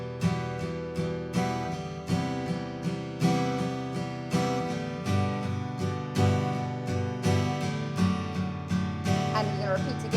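An acoustic guitar strums open chords without palm muting for the chorus of a song. The strokes are steady and rhythmic, with bright, ringing strings close up and no voice.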